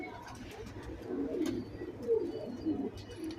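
Khatang, or Badal, pigeons coo softly and close by, a few low, throaty murmuring calls rising and falling over quiet background noise.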